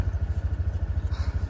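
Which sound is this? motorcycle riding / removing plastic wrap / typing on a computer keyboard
motorcycle riding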